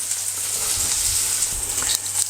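Chicken livers sizzle steadily in garlic butter in a hot pan, a loud continuous crackling hiss with light stirring bumps beneath, no voices.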